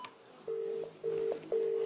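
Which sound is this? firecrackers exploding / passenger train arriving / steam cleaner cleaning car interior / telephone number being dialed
telephone number being dialed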